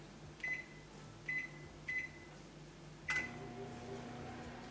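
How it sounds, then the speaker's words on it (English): Microwave oven heating sweet corn on a plate, a faint steady hum throughout with several short high beeps, the last one followed by a clunk as the run begins; a voice may murmur faintly. "Now we're going to place it in microwave for 5 minutes."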